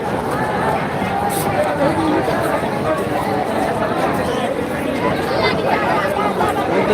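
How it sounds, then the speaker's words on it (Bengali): Dense crowd at the Dhaka International Trade Fair, a constant loud babble of many overlapping voices filling the air near and far, with no single sound standing out. "প্রচুর লোকের ভিড়"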